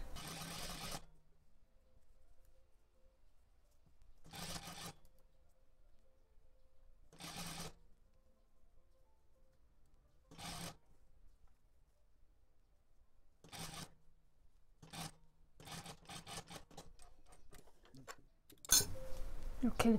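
A sewing machine stitches pajama fabric along the back neck seam in about seven separate bursts of running, each a second or so long, with quiet gaps between them and a cluster of short, rapid runs near the end.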